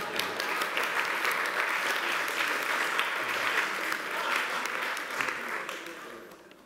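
An audience at a talk featuring Father Julián Carrón breaks into dense, sustained applause, a full roomful of clapping holding steady before fading out near the end.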